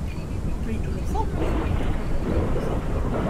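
Steady rain and rumbling thunder in the horror game Pacify, a dense continuous wash of low noise with a deeper roll swelling midway, heard alone without talk.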